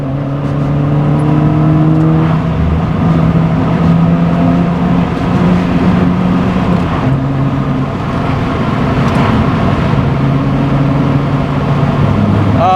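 A GD3 Honda Fit drives and accelerates with a steady, loud engine drone heard from inside the cabin, its pitch rising and dropping with shifts and revs and holding for the whole stretch.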